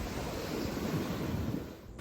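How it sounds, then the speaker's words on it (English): Powerful ocean waves crash and roll at Virgin Beach, Bali, a dense, continuous roar of surf with some wind buffeting, loud and close, easing slightly at the end. "But look how powerful these waves are."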